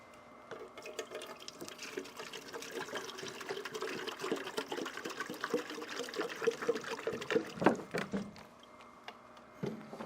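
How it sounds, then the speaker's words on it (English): Distilled water pours and trickles over a metal part being rinsed in a home shop electroplating setup, a quiet, uneven splashing and dribbling that grows busier toward the end. "I also grabbed some distilled water so I could rinse it off where I stuck it in there."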